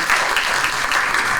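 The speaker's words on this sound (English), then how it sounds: "let's give Bob Bernard a round of applause" Attendees at a county school board meeting clap briefly for Bob Bernard, a short, even patter of hands in a room.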